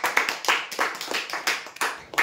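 Applause for a prize winner at a lucky draw event, a short burst of sparse, rhythmic hand claps close by, only a few people clapping.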